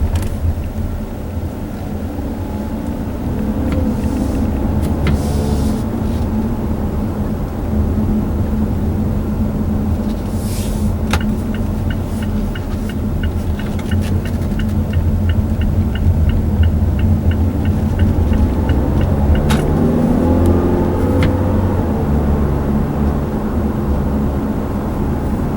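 A 2015 Mazda 6 Touring with an automatic transmission, heard from inside while driving, gives a steady, loud low drone of engine and road noise that holds throughout with no talking.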